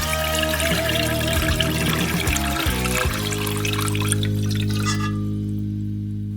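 Flavored oil for cooking crawfish, seasoned with peppers and dill, trickles and drips through a filter with a steady liquid pour that thins out near the end, no voices over it.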